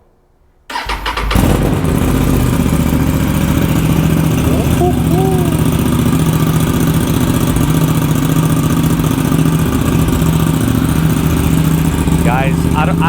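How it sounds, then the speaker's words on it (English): An Aprilia RS 457 motorcycle with an SC Project S1 exhaust and baffle fitted cranks to life and settles into a loud, steady, throbbing idle up close, with a voice speaking over the engine. "even with the baffle, this bike is loud."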